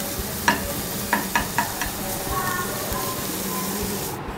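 Ginger and garlic are sautéed with softened onions in a pan, with a quiet frying hiss and several sharp spatula scrapes and taps early on, followed by a softer, steadier sizzle.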